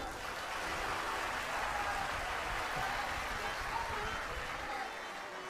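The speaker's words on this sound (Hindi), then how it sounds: "एक बार अपने लिए ताली बजाइए।" An audience at a Shri Ram Katha religious discourse claps steadily in a dense, continuous wash of applause, filling the whole stretch at an even level with no break.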